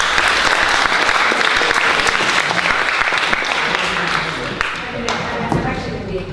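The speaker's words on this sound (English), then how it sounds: "Let's give Nikki a round of applause." A theatre audience at a forum theatre event gives a performer a loud, dense round of applause that thins and tapers off over the last couple of seconds, with some voices mixed in.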